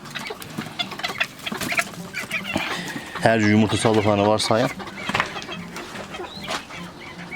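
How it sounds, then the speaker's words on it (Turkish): Several hens, about four in a coop, cluck and squawk in a burst of repeated loud calls near the middle, with someone talking over and around them. "Size 4 tane tavuk burada var."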